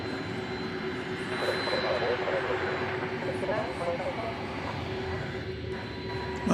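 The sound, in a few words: aircraft taxiing through the UPS apron at DFW Airport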